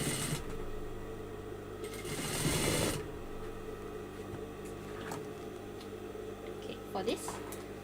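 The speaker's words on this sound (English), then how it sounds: "Okay, so continue sewing." A sewing machine stitches fabric pieces, including a curved circular section, running in steady bursts with a louder stretch early on and a person talking over it throughout.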